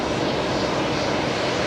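A steady, unbroken aircraft engine roar at Brisbane Airport, from a Moldovan-registered plane, sitting at an even, fairly loud level throughout with no voices heard.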